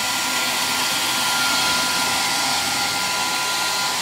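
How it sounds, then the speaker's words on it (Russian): A hair dryer blows steadily at close range, drying wet shoes, a loud continuous whirring roar with no pauses and no voices. "немножко мне фен помог"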